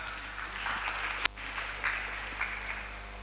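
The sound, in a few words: applause for Mas Sulaiman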